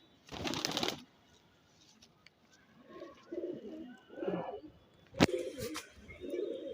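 Small pigeons coo softly in a loft, low throaty burbles repeating in short bursts, with a brief flutter of wings at the start and a sharp click midway; fairly quiet and close, no talking.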